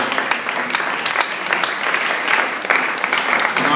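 An audience at a talk gives a round of applause, dense continuous clapping from many hands, loud and close, with no voices over it.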